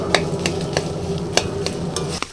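Ridge gourd dolma ingredients fry in a pan, a steady sizzle with a string of sharp spatula scrapes and taps at an uneven pace, close and clear.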